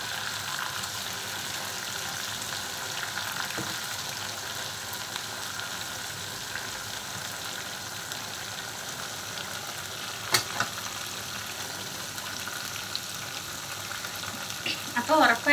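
Chicken pieces frying in a pan, a steady dense sizzle running throughout at close range, with a brief sharp clatter near the middle and a few small knocks at the end.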